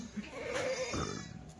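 A young Kathiawari goat kid bleats once in a short, fairly close cry on a farm, with faint background noise and no talking.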